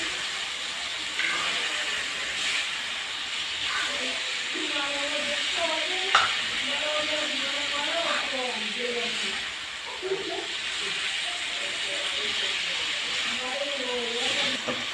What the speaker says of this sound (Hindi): चम्मच से हिला देना।